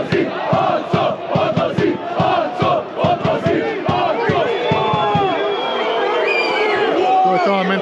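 Torcida Sandžak football ultras in Novi Pazar, Serbia chant loudly in unison, rhythmic shouted bursts from a dense crowd giving way to a sustained roar and scattered whistles.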